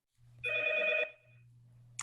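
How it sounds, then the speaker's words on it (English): A telephone bell rings once in the background of a quiet indoor conversation, a single bright, steady trill lasting about half a second, followed by a faint low hum and a brief click near the end. "That's a phone ringing in the background."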